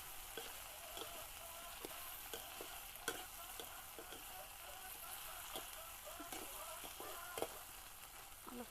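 Potatoes fry faintly in a pan for kusia curry, a soft continuous sizzle broken by light stirring clicks and scrapes at an irregular pace.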